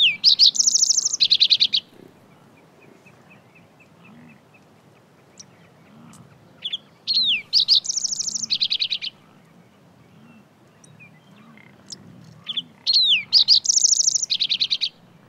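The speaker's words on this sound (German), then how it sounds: "Ihr einfaches Liedchen trägt sie hingebungsvoll vor, lässt sich auch vom Grunzen der Büffel nicht aus dem Takt bringen." Green-tailed towhee singing in open sagebrush prairie: three bright bursts of chirping song, each about two seconds, separated by quiet gaps with a low rumbling background.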